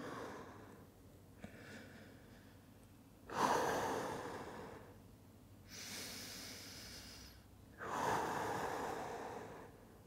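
Slow, deep breaths held during a floor stretch in a glute and cardio workout, with three long, airy inhales or exhales close up, separated by quiet pauses, and no talking.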